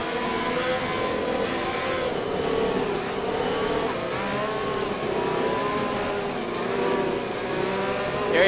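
Race car engines in a racing video game on a French track, revving steadily as the field waits behind the pace car before a restart, a continuous loud drone with no talk over it.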